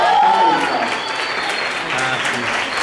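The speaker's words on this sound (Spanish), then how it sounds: "Dale un fuerte aplauso para una joven actriz." An audience applauds a young actress at a red-carpet premiere, continuous dense clapping heard with voices and crowd noise mixed in.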